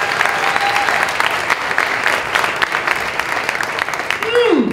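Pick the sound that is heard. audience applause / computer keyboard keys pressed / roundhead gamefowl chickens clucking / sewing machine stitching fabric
audience applause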